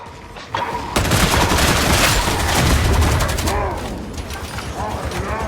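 Rapid automatic gunfire rattles in a close, loud, sustained volley in the Warhammer 40,000: Darktide video game, dropping to scattered shots and mechanical clicks, with a game voice calling out over it.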